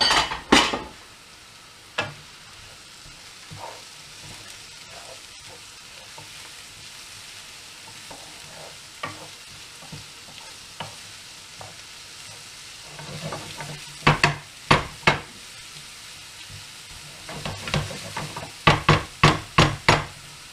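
Minced meat and carrots sizzle steadily in a frying pan at low volume while a utensil stirs and scrapes, with sharper clicks and knocks against the pan clustering near the end.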